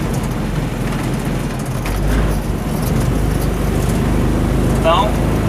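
A car fitted with a motorcycle engine driving through town over speed bumps, a steady low engine drone with road noise and a brief higher whine near the end, while the driver talks.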